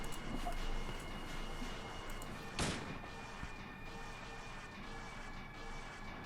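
A shotgun fires once at a creature in a Silent Hill fan video game: one sharp, loud blast rising mid-clip over a steady low ambient drone, then fading quickly.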